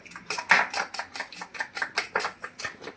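Chicken minced for keema being beaten with turmeric in a bowl, a quick steady run of sharp rhythmic taps and clatters, close and fairly loud, with no talking.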